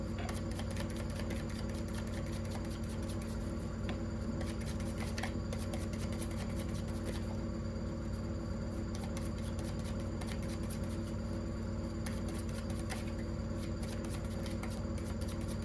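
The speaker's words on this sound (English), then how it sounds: "I'm going to go ahead and shuffle these." Soft, quiet shuffling of a tarot deck, a continuous stream of light papery riffles and ticks with no one speaking.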